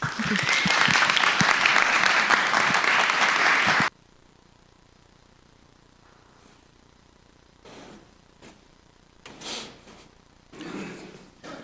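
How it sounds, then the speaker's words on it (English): Audience applause fills a community summit hall as attendees clap for themselves after self-introductions, loud and dense for several seconds, then cutting off abruptly into quiet room tone with a few faint shuffles and bumps. "give yourselves a round of applause"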